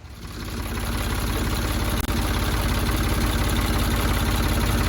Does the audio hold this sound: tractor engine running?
yes